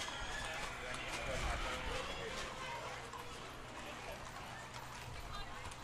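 Horses clip-clop along a Memorial Day parade route, faint and mixed into steady crowd noise and voices talking throughout.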